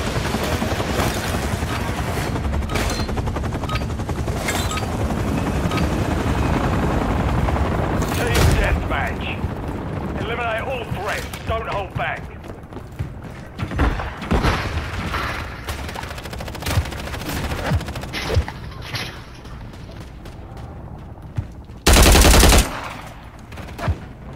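Rapid bursts of automatic gunfire and scattered shots in a shooter video game, loud and dense at first then thinning into sporadic cracks, with someone talking over the action.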